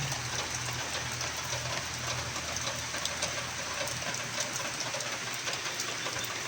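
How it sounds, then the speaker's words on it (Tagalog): Steady rain patters down without a break, a constant hiss with scattered drips and taps close by. "So guys, umuulan guys."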